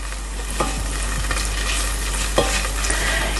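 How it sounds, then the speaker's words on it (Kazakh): Butter melts in a frying pan as the base for a cream sauce: a steady, close, low sizzle with a few light clinks and scrapes of a stirring utensil. "Сары майды ертіп аламыз."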